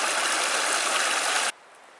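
Clear river water rushing along the Superior Hiking Trail, a steady broad hiss of flowing water that cuts off abruptly near the end, leaving quiet; no talk.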